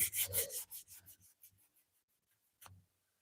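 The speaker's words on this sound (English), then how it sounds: "let's sand that a little bit off here" Rough rubbing strokes of sanding on a wooden knife handle, quick and rhythmic at first, then slowing and fading, with one last short scrape after a pause.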